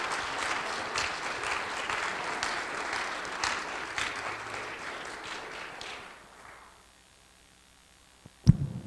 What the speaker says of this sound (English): if we don't mind just giving him a round of applause